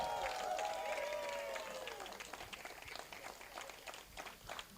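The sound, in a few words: audience applause at regatta award ceremony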